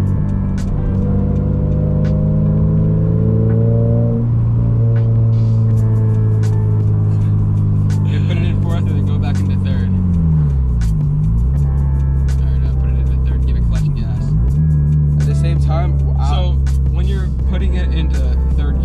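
Modified Toyota GR86 engine droning loudly inside the car, the pitch rising and then dipping twice as gears change, with people talking over it.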